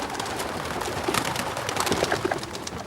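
Pigeons cooing nearby, several soft low coos repeating over a faint outdoor background with no talking.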